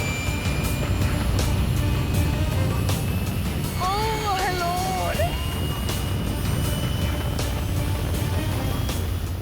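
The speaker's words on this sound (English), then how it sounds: "When the fighter jet appeared" A fighter jet roars past a race site, a loud broadband rush that fills the whole clip, while a person briefly exclaims over it.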